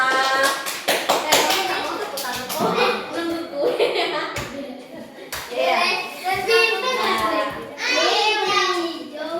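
Children clap their hands in a lesson, giving bursts of sharp, close claps that start and stop, while kids chatter and call out over them.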